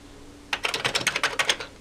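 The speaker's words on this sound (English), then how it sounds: "the Amiga 500 keyboard." Keys clack on a mechanical Amiga 500 keyboard in a quick burst of about a dozen close, crisp strokes after a brief quiet start.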